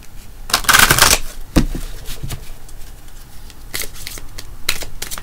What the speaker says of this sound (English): it's so nice to shuffle a brand new deck of cards